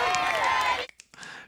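A crowd in a Doctor Who episode cheers and shouts loudly for under a second, then breaks off into brief scattered calls and clapping.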